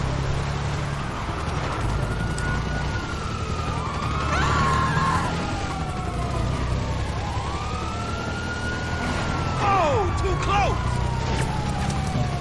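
Wailing police car sirens in a GTA 5 chase, sweeping up and down repeatedly at moderate distance over a steady engine rumble, with someone talking throughout.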